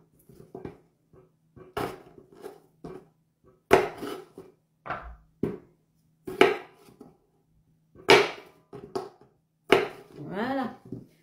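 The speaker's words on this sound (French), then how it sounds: "Tout le monde sait couper les pommes de terre." Small Ratte potatoes being cut into quarters on a board, sharp knife chops spaced irregularly in close, distinct thuds, with a voice speaking softly between some of the cuts.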